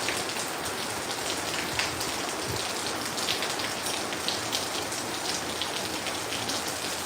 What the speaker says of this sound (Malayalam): ഇപ്പോൾ കാറ്റടിക്കുന്നുണ്ട് കേട്ടോ ചെടികളൊക്കെ കാറ്റുണ്ട് കാറ്റും മഴയും